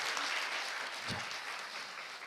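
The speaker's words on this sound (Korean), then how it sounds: "이 모든 분들 대박 나시라고 여러분 감사의 박수 한번 부탁드리겠습니다" An audience at a Korean talk show claps in thanks, giving a soft, steady patter of applause that fades slightly toward the end.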